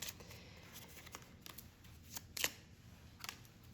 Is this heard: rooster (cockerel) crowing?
no